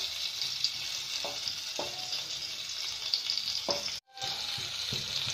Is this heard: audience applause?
no